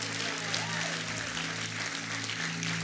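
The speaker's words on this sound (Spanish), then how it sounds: "Dale gracias al Señor con ese aplauso." Congregational applause in a church service giving thanks to the Lord, a continuous dense clapping wash over a steady low hum, with voices faintly blended in.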